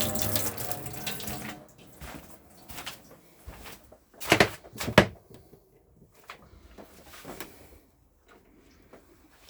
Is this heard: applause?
no